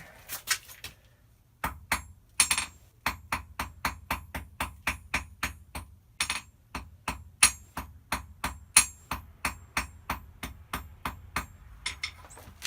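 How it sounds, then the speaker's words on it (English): Hammer striking a warped metal pin on a railroad-spike knife to straighten it, a long series of sharp ringing blows in a fairly steady rhythm, close and alone. "It's a little bit warped. The pin is. I need to straighten it out a little bit. Get a hammer here."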